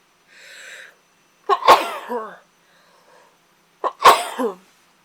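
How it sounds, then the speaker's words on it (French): Two sharp sneezes, each preceded by a short inhaled breath, close and loud, separated by a couple of seconds of quiet. "je vais encore éternuer"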